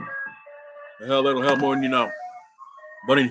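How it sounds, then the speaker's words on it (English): An ice cream truck jingle plays outside, a tinny chiming tune heard faintly in the background while someone talks over it. "Sorry about the ice cream truck."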